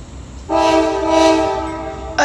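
A loud, sustained CSX freight train horn blares a single chord-like blast for nearly two seconds at a road crossing, nearby and dominant over faint background rumble.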